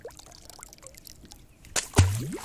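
A chatterbait drags a rock up from the bottom of a lake, and the rock breaks the surface with one sharp, close splash. Faint outdoor ambience comes before it.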